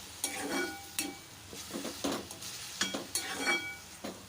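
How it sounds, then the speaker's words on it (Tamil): Sliced chayote is sautéed in a pan with mustard seeds and asafoetida. A spoon scrapes and stirs in quick, uneven strokes over a soft, quiet sizzle. "ஒரு ரெண்டு நிமிஷத்துக்கு மட்டும் நம்ம இதை வதக்கிக்கலாம்"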